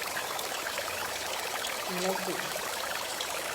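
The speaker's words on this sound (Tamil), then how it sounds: "குளத்தில் எவ்வளவு அழகா தண்ணீர் விழும்" Water falls steadily into a village pond in rainy-season Kerala, making a continuous even rush that stays at one level throughout, while a person briefly says a single word over it.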